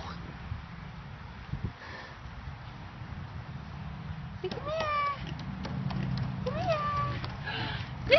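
A few high, drawn-out cat meows toward the end, repeated with short gaps, over a low rumbling background.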